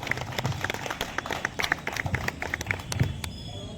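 Audience applause for a doctor at a yoga-day event held by an MBBS college in Shahjahanpur: a sustained patter of many hands clapping in a room, fairly steady across a few seconds, with scattered sharper claps and no talk.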